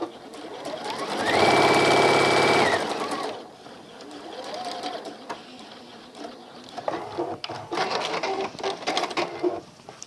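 A sewing machine stitching fabric, a loud rapid whirring run of about a second, then quieter intermittent bursts of stitching with clicks and fabric handling.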